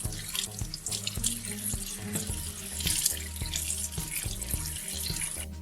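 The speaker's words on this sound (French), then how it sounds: "Placez une cuillère sous le jet, côté arrondi vers le haut, l'eau se diffusera en éventail et rincera le tamis rapidement et uniformément." Tap water runs steadily onto an upturned spoon and fans out to rinse a kitchen sieve, a continuous close splashing hiss with small irregular clinks and spatters.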